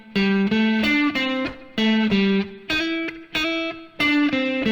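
Distorted electric guitar plays a Rockschool Grade 3 piece, a loud run of sustained, overdriven notes with slides between pitches, heard alone.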